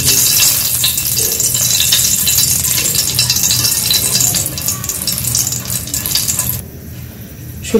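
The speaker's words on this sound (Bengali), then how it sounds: "তেল গরম হয়ে গেছে শুকনো মরিচ গুলো ভেজে নেই" Dried red chillies fry in hot oil in a kadai, giving a loud, continuous sizzle with scraping stirs and light metallic rattles close by, and the sizzle drops away near the end.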